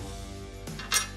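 Small steel M8 x 1.25 screws dropping through holes in a flip-up seat base for a Kawasaki Teryx KRX 1000, a brief metallic clink and rattle over a low steady hum.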